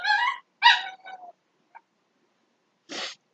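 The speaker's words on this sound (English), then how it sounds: "excuse my dog" A dog gives a few short barks and yips followed by whimpering whines, close and fairly loud, separated by brief silences.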